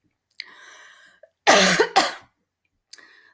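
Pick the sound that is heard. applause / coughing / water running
coughing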